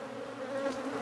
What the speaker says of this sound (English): Three nasty killer beehives, Killer Bee Nation.